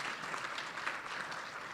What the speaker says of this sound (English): Let's give a big round of applause to the Tech and Innovation category